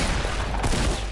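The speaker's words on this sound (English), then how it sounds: "Is that gunshot near you?" Gunfire in the video game Fortnite, a dense burst of rapid shots blurred into a continuous loud crackle, heard briefly without talk.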